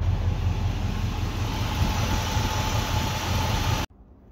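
Chevy K30 Squarebody truck with a Quadrajet carburetor and 4-speed driving through town, its engine producing a steady, loud low rumble that drones evenly before cutting off abruptly near the end.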